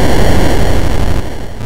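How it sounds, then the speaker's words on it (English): A harsh burst of loud static-like noise from a crash in the Atari 2600 racing game Pole Position, dense and crackling, thinning out toward the end of the short clip. "or the sound of a collision."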